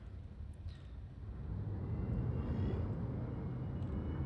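Spaceship thrusters throttle up in the game Elite Dangerous, a low, steady engine roar that swells after the first second and then holds a full, even rumble.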